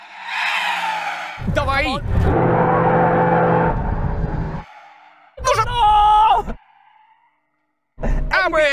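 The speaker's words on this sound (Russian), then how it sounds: "смотрите проверку торможения" A McLaren Senna and a 1200-horsepower Lexus race car brake hard in a braking test, with loud tire skids and squeals in several bursts, mixed with engine noise and a shouted voice.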